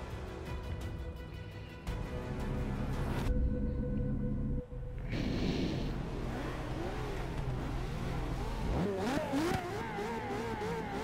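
A McLaren T1 engine in the Forza 6 racing game revs hard and climbs through the gears, with a buzzy, fluctuating roar. Brief drops come at the shifts and are followed by renewed acceleration.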